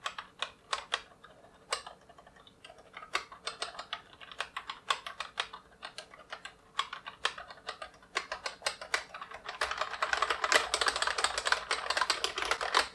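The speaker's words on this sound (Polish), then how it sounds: "posłuchajcie sobie jak ta klawiatura pracuje i popatrzcie jak reagują przyciski" Keys on a Cooler Master MS110 hybrid keyboard clatter in quick, irregular bursts, fairly quiet without clicks, the typing growing denser and louder toward the end.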